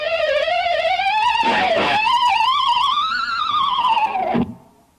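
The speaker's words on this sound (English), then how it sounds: "a succession of 3 harmonics and using the tremolo bar in a way to bend down and up and wiggle at the same time" Harmonics are played on an electric guitar, in a succession of three, and bent down, up and wiggled with the tremolo bar. The result is a loud, sustained, wavering, swirling, haunting tone with two pick-like bursts, which cuts off near the end.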